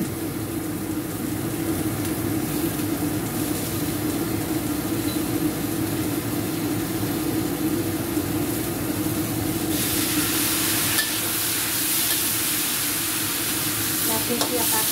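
Chili paste frying in a home kitchen pan while making Kudus-style fried potato sambal, a steady close sizzle with stirring scrapes that brightens and grows hissier about two-thirds of the way through.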